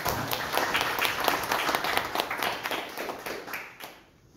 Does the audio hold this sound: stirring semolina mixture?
no